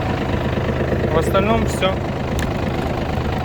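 Yanmar F210 three-cylinder 21 hp tractor engine idling with a steady low rumble throughout, while someone talks over it nearby.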